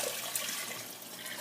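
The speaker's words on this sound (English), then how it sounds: "So I'm going to add 6 cups of water." Six cups of water pour into a pan of vegetables for kitchen-sink soup, a steady close rushing splash of liquid, continuous and fairly loud, with no talking.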